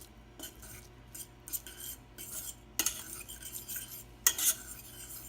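A fork mixes salted and peppered ingredients in a bowl, producing faint, irregular scraping and clinking taps, with a few sharper metallic knocks standing out against quiet background.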